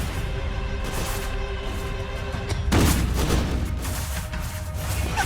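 Minigun fire in a Roblox riot pours out as a dense, loud, continuous rattle of rapid shots, swelling into a heavier boom partway through and continuing amid chaotic game noise.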